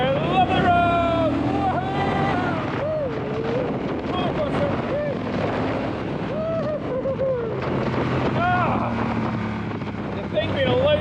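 A Honda Rebel 1100 motorcycle rides along a bumpy road, its engine rumbling steadily under wind buffeting while a rider talks over it throughout.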